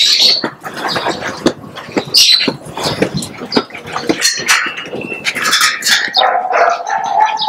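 Several dogs bark in bursts, mixed with yelps and higher squeals, loud and close with irregular gaps between outbursts and no talking.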